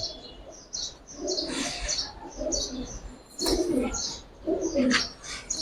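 Young Giribaz high-flyer pigeons, colored birds with a grizzle among them, give soft coos and short chirps in bursts. Wings flutter now and then, close up and unaccompanied by voices.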